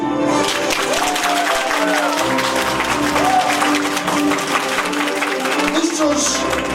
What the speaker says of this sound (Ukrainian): А тепер, будь ласка, подаруйте оплески